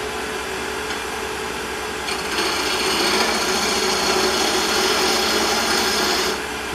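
A scraping tool cuts soapstone spinning on a wood lathe, a continuous close gritty rasp that grows louder and brighter for several seconds before easing off.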